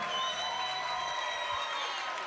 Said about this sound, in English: big round of applause for these 2 fighters